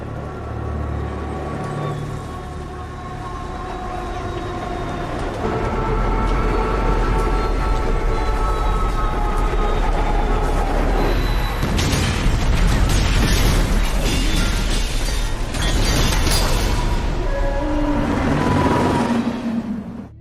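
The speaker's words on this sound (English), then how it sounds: "That was 10 million pounds of train, Mr. Galvin." Movie sound effect of a runaway 10-million-pound train crashing: a loud, sustained roar of heavy rumbling and metallic crashing bursts builds and peaks mid-clip, then grinding screeches trail toward the end.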